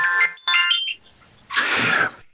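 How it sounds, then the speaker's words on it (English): A timer alarm goes off loudly in two bursts of shrill, tonal beeping, then falls briefly quiet before a harsher buzzing burst sounds, with no talking over it. "that was the magic timer"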